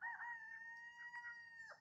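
A rooster crows in one long, drawn-out call that carries over a steady, faint background hum.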